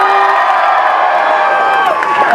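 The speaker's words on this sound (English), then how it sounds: "Come on, guys, let's see your biggest cheer!" A crowd of students at a university Strictly dance show lets out a loud, sustained cheer with whoops and shouts, steady throughout a couple of seconds.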